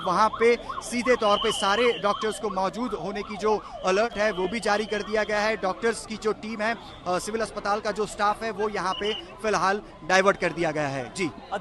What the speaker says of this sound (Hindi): बिल्कुल निर्बाध वो एम्बुलेंसेस की आवाजें आपको सुनाई दे रही हैं।